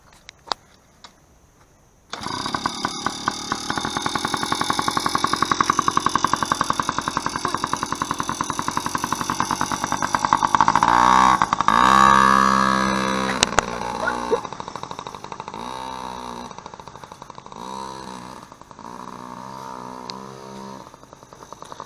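A small motorbike engine starts up and revs hard nearby, a buzzing, rattling drone that rises and surges in bursts, then settles into uneven pulsing revs toward the end.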